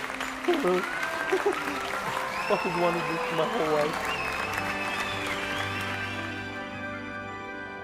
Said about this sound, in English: You better clap for me.